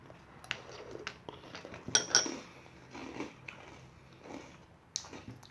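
A spoon clinks and scrapes against a bowl while stirring at breakfast, a series of light, close taps with one brighter cluster of clinks midway, fairly quiet and without talking.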